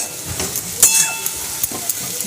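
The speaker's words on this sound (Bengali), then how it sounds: "দেখো এখানে শাক ভাজাটাও ভাজছি" Leafy greens (shaak) fry in a pan in a home kitchen, giving a steady close sizzle and hiss with scattered sharp crackles and pops and no talking.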